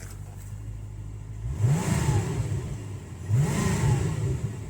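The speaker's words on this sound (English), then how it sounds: "Give it a little rev." Twin-turbo engine of a 1988 Callaway Corvette revving twice from idle, each rev rising sharply and then falling away, heard close and steady with no talk.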